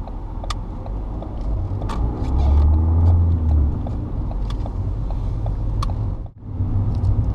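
A manual car idles and pulls through a busy roundabout, its steady engine rumble and road noise filling the scene with passing traffic, briefly dipping before resuming.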